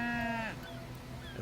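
A cow in Divinity: Original Sin gives a short, close bovine low that fades into a quiet game ambience.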